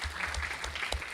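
A conference audience at a medical and health sciences event applauds the speakers with a brief, dense burst of steady clapping.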